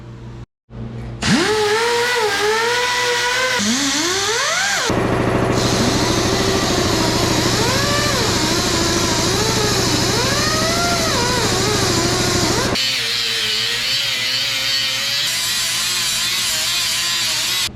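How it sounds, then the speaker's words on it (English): A loud, whining wire wheel spins steadily, its pitch rising and falling as it presses against a 1990 Ford F350 door, grinding off bed liner with brief changes in load. "first I took the wire wheel to it"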